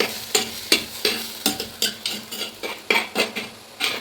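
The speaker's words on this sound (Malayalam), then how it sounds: "ഇതിലേക്ക് ഇനി നമുക്ക് നമ്മുടെ മടന്ത എല്ലാം കൂടെ കൊട്ടി കൊടുക്കാം." Madanta (taro) leaves being stirred in a pan over a wood-fired stove, a steady run of sharp spoon-on-metal scrapes and clinks about every half second, close and fairly loud, with a faint sizzle beneath.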